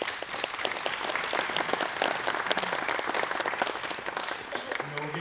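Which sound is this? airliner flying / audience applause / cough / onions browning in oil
audience applause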